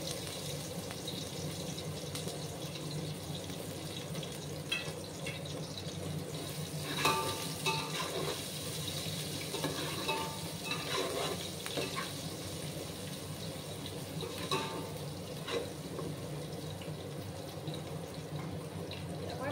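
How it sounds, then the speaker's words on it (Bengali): Grated ginger frying and being stirred in a pot with green chillies, a steady close sizzle with occasional scraping of a spoon against the pot, moderately loud and continuous. "আর কিছুটা গ্রেট করা আদা আমি দিলাম।"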